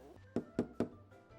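Three quick knocks on a hotel room door, evenly spaced and fairly soft, sounding from a short distance inside a quiet room, with a faint low hum beneath.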